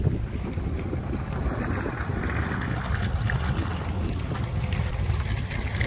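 Outboard-powered boats race, a Yamaha 115 Pro XS on a Norsilver hull against a Neman 450DC with a Chinese SEANOVO 60 EFI, their motors a steady drone under heavy wind buffeting and splashing water.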